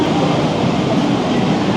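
A metro train pulling into a Hong Kong station, a loud, close, continuous broadband rumble and roar of the cars moving along the rails, with no speech.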